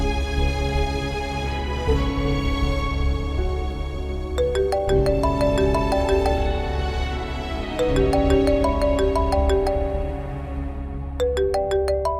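A phone ringtone plays a looping melody of bright, chiming notes, loud and steady with no voices over it.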